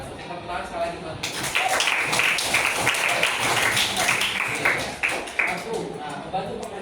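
A classroom audience claps together for several seconds, a dense burst of applause that starts abruptly and continues with voices mixed in.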